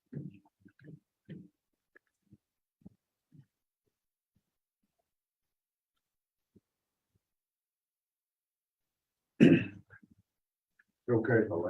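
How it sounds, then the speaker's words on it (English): A man at a state plant board meeting coughs and clears his throat in a few short, soft bursts, with long quiet gaps between them, followed by louder nearby talking. "I'll apologize because I'm gonna cough a little bit."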